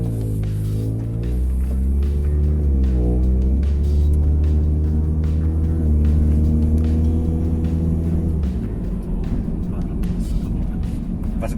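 A Honda Civic 1.8L with a reflashed ECU and a corrected exhaust pipe drones steadily from inside the cabin on a test drive, its engine pitch rising, dipping and climbing again as it accelerates, then settling into a rougher road rumble.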